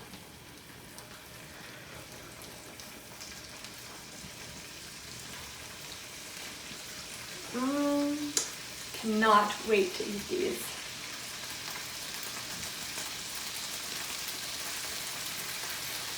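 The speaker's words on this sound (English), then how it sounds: "Oh, they're already sizzling, I can hear them." A soft, steady sizzle of teriyaki chicken skewers frying on a grill runs throughout, with a brief spoken remark in the middle.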